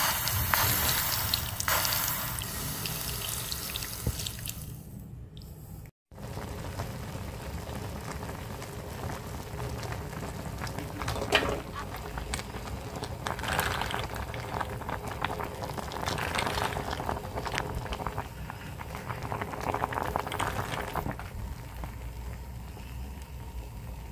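Pork, jackfruit and pigeon peas simmer in water in a pot, giving a steady, close, hissing bubble that runs throughout. There is a brief dropout near the start, and no one speaks.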